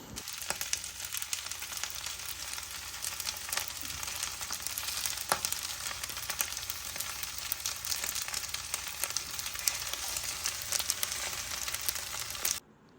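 Kimchi rice with tofu sautéing in sesame oil in a hot pan: a dense, continuous sizzle and crackle that holds steady for over twelve seconds, then cuts off abruptly.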